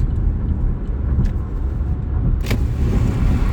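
Heavy low road rumble from inside a car at about 65 mph on a highway as a truck passes alongside, a steady loud drone with a brief rushing swell.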